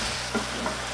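Chestnut chicken stir-fried in a wok over high heat with scallions and oil, a steady close sizzle with a couple of soft scraping stirs in one brief burst.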